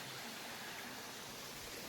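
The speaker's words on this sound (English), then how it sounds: "back in the distance is like a man-made cascading waterfall" Steady, even wash of falling water from a man-made cascading waterfall in Tishomingo State Park, heard from a distance as a soft, continuous broadband hiss with no voices over it.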